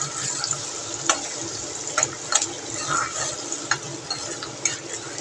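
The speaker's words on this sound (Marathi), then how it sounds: "तेल गरम झाल्यानंतर आपण त्याच्यामध्ये बारीक चिरलेला कांदा घालून घेऊयात" Finely chopped onion frying in hot oil in a home kitchen, giving a steady close sizzle with scattered sharp crackles and occasional stirring clicks.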